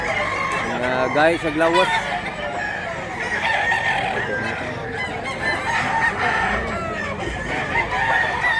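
Roosters crow and hens cluck around a crowded gamefowl gathering in Mantalungon, Barili, with one clear crow near the start and ongoing clucking under steady talk.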